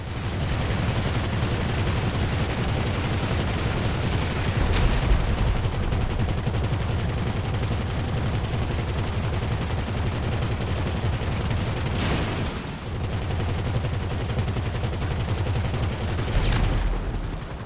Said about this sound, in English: The Buzzard from 2013 shooting a player hunter on the left, and the new Weaponized Conada shooting a player hunter on the right